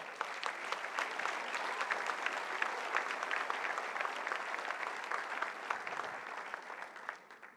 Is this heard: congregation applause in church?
yes